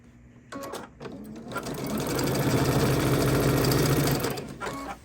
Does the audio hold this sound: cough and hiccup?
no